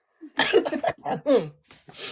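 A voice gives a couple of short, exaggerated coughs, sounding more like a playful imitation than a real coughing fit.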